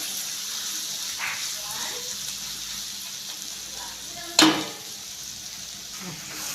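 Onions stirred and fried in a pan on the stove for a Kerala-style chicken parts curry, giving a low steady sizzle with one sharp clank of a utensil against the pan midway.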